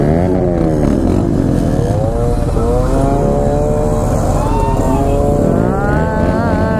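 Two-stroke Suzuki Samurai motorcycle engine revving at a college auto expo: a loud, continuous buzzing drone with pitch sweeping up and down through repeated throttle blips, close by and steady throughout.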